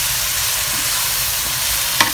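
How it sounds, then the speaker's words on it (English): Sambal tempe fries in a pan while tamarind juice is stirred in, giving a steady close sizzle with a brief scrape of the spoon near the end. "You need to stir the juice"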